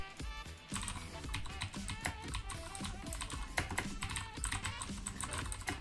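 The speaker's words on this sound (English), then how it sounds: "here's what the K668 sounds like when you're using a mechanical keyboard and a mouse." Steady, rapid clatter of mechanical keyboard keys being typed on, with occasional sharper mouse clicks mixed in, close and continuous, recorded through a Fifine K668 microphone.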